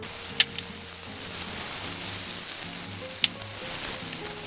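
Chive and soybean paste pancake frying in oil in a pan over medium heat, giving a steady soft sizzle throughout with two brief sharp pops, close and moderately quiet.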